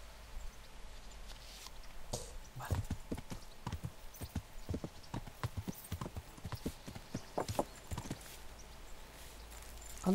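A horse's hooves clip-clop at a steady walking pace in Kingdom Come: Deliverance, crisp individual hoof strikes fairly close against a quiet outdoor backdrop, with a brief whinny-like sound near the start.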